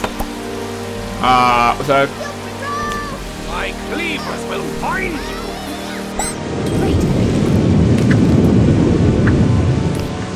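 Rain and rumbling thunder from the Octodad video game swell into a broad, steady wash of noise after someone speaks briefly over quieter background sound.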